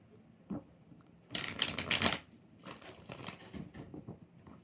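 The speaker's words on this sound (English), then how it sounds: "4 shuffles." Rider-Waite tarot cards being shuffled in a few distinct riffling bursts, loud and close, with softer card handling between them and no talk.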